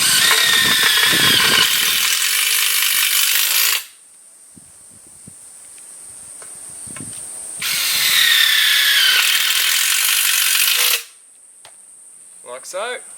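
A power drill drives self-tapping screws into a steel post in two loud, high-pitched whirring bursts a few seconds each, separated by quieter pauses with faint clicks and handling noises.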